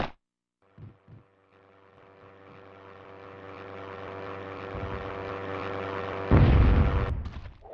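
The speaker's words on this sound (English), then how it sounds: "I shoot." Shooting in the video game Hogs of War: a low engine-like hum swells steadily, then one loud, rough burst of fire lands near the end, with no talking.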